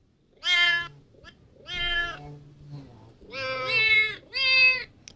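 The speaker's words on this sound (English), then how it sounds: "Have you heard the Kitty Cat keyboard app? Cat piano." A series of cat meows from the Kitty Cat keyboard piano app, five or so distinct tonal mews in an uneven rhythm, the later ones louder and overlapping, close and with no talking.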